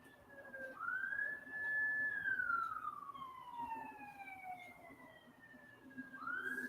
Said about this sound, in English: you can hear the ambulances and stuff in the background